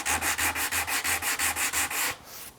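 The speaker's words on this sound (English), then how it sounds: "I'm just gonna sand the edges." Wooden molding edges hand-sanded with 150-grit sandpaper rolled around a shim, about a dozen quick rhythmic back-and-forth rasping strokes close up, then stopping; no voices.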